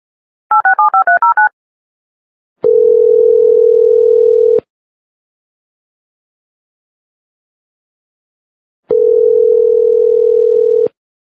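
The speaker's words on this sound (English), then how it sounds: "give me a second to hang up on Blog Talk and call back" Quick dialing beeps come first, followed by two long, steady telephone tones separated by silence, heard clearly and alone on a phone line while calling back into a live call-in show.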